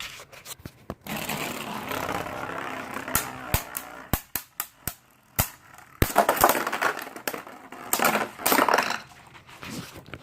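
Spinning tops clash in a plastic battle stadium between Tornado Wyvern and Twin Nemesis tops, one launched with a string launcher; rapid sharp clacks and scraping impacts come in bursts, with a few isolated loud hits in between.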